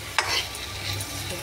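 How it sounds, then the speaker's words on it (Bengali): Momos stir-fried and tossed in spiced oil in a pan, giving a brief scraping stir over a steady low sizzle, close and moderately loud with no talking. "হ্যাঁ এই যে মোমোগুলো ছেড়ে দিলাম। এর মধ্যে মাখিয়ে নেব।"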